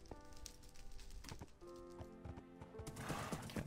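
Horse hooves clip-clop in the Minecraft-based game WynnCraft, a quiet run of soft, fairly regular hoof taps with faint game ambience and no talk.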